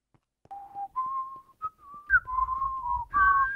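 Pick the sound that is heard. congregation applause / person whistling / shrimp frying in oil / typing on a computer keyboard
person whistling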